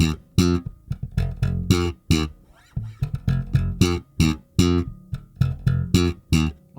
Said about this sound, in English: So in the future, it's gonna sound like this when you play a little faster.